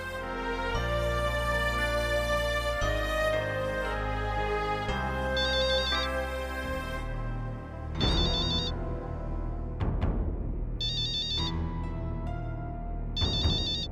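A telephone rings as a call is placed, giving repeated electronic ringtone bursts over loud dramatic television-drama music.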